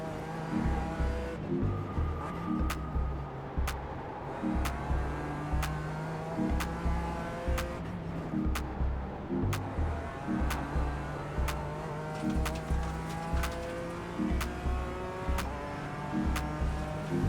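GT4 race cars lapping the Nordschleife in the iRacing sim, engines droning loud and steady in a tight pack, with rhythmic revs rising and falling through gear changes and occasional tire noise.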